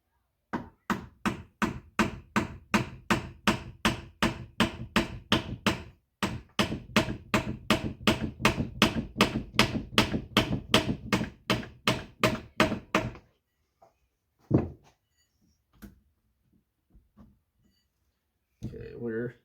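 Hammer blows ring out on a Polaris triple engine being rebuilt, a long run of rapid, evenly spaced metallic strikes near the mic, then a pause and a few scattered knocks.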